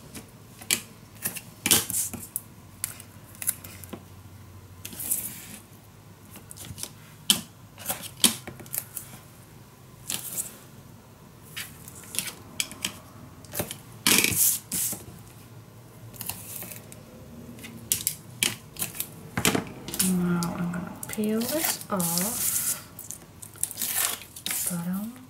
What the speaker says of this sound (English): I am going to attach some tape around my paper too